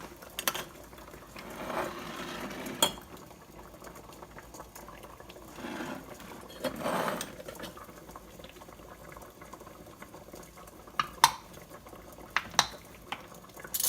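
Lids on freshly canned Roma tomato jars pop as they seal, a few sharp, brief clicks scattered over a quiet, low bubbling hiss.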